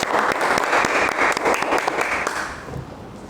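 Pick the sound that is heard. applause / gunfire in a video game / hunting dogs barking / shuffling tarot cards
applause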